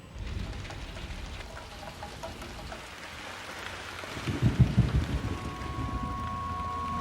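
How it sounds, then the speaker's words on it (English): A thunderstorm with steady heavy rain pouring down, joined midway by a rolling rumble of thunder that swells and fades, with no voices. "There was a storm."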